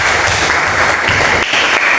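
A group of teachers at a school session gives dense, sustained applause, loud and close throughout without pause.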